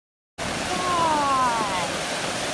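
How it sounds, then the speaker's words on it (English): Creek running high during a 2019 flood, a steady broadband rush of water heard outdoors and fairly loud, with a faint whistling tone drifting through the middle. "that's the creek"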